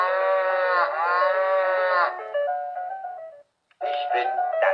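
A VTech 1-2-3 Entdecker-Fon toy phone plays a recorded cow moo, a loud drawn-out tone lasting about two seconds that tails off, then after a short silence another synthetic animal sound starts.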